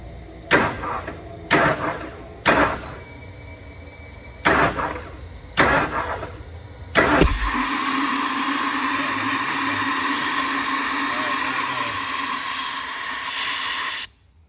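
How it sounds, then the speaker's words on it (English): A 1999 Ford F250 V10 is bumped over with a remote starter button in six short, sharp cranking bursts. A steady hiss of escaping air follows and holds for several seconds before cutting off. "Now I'm gonna use this bump button"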